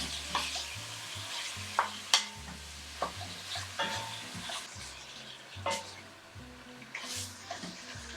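Ground meat for ragu sauce sizzles in a pan while a spoon stirs it, scraping and clacking against the pan in irregular strokes over a steady frying hiss, with a low hum underneath.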